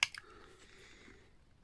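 An Action label maker punching a label hard gives one sharp click at the start, a couple of quick follow-up clicks, then a faint mechanical rustle fading out.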